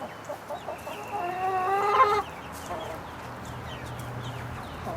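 Hens cluck and squawk in a backyard chicken run, several birds overlapping in a busy burst that peaks then settles into softer scattered clucks over a steady low background hum.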